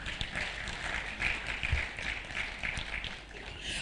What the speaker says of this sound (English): Those who saw the River Nile yesterday, give a round of applause to yourselves.